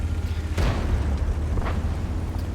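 A Tiger II tank cannon firing in a video game sounds as a single heavy boom partway through, followed by a fainter second thud over a steady low engine rumble.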